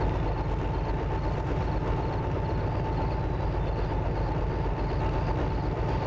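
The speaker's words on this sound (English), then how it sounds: "Having to suffer this noisy shunting." A train shunting in the railway simulator game Derail Valley gives a loud, constant rumbling drone with rattling, steady throughout without pause and with no talking over it.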